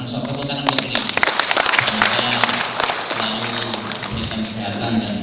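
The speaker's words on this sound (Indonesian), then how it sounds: "Tepuk tangan buat beliau." An audience at a college graduation ceremony claps steadily for several seconds, a dense patter of hands filling the hall while a voice continues talking over the applause.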